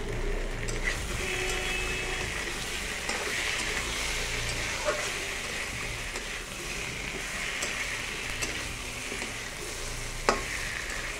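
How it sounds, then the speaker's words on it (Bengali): Ground spices with chili powder and salt frying in a pan, a continuous dense sizzle with occasional faint stirring clicks and one louder knock near the end, close by with no voices. "মশলা কষানো হয়ে গেছে, অল্প পরিমাণে জল দেব"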